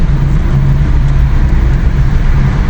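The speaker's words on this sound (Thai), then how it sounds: "รถติดครับติดเต็มเลย" A steady low rumble of road traffic, with idling and slow-moving engines droning continuously nearby and no voices.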